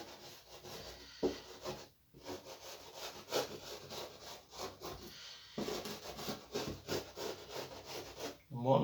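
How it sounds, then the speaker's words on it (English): A track rubber block rubbed back and forth along model railway rails, giving a continuous scratchy scrubbing in steady strokes, close and fairly quiet, with a couple of short pauses. "What I'm going to do is just wipe down the rails."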